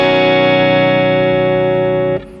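A sustained electric guitar chord played on the neck pickup with a warm, round tone, ringing steadily and loud for about two seconds before being cut off.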